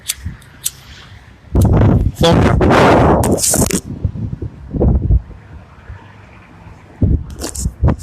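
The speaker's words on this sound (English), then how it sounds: "it's windy as hell" Heavy wind gusts buffet the microphone in loud low rumbling bursts, broken by quieter stretches of faint background noise.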